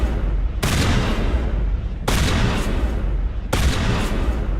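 Shotgun blasts in the sci-fi shooter game Mass Effect, three loud booming shots spaced about a second and a half apart, each followed by a long noisy rumbling tail over sustained battle noise.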